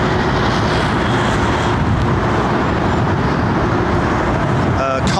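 A Lufthansa Airbus A340-600 airliner passes overhead from east to west, a loud, steady broadband roar that holds for several seconds over nearby traffic noise.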